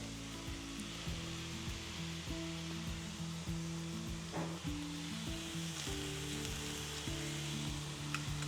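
Corn, cheese and spices sizzle in a pan at an off-grid cabin, a steady close frying hiss with a faint, repeating low tonal hum underneath.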